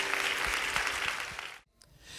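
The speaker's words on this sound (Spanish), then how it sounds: "denle un aplauso bien fuerte al Señor por toda la gente que nos está viendo" Church congregation clapping during a service, a fairly faint steady patter with a few heavier claps that stops abruptly near the end, followed by a short quiet stretch.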